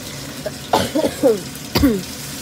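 A couple of short coughs and throat-clearing sounds break out close by, mixed with brief voice sounds over a quiet background.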